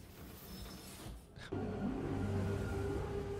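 A Nox space bike engine in Star Citizen, a low rumble that drops briefly then surges into a louder steady revving hum with rising tonal whine, no talk over it.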